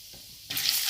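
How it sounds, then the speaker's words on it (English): Red chili powder hits hot oil in a kadai, and a sudden bright sizzle starts after a quiet moment and holds loud and close to the end. "Once the oil is hot, I will add the red chili powder."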